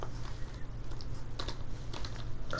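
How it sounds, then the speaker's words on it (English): Typing on a computer keyboard in a quiet room, a steady run of close, light key clicks with occasional louder taps over a low background hum. "Sorry, my typing's terrible."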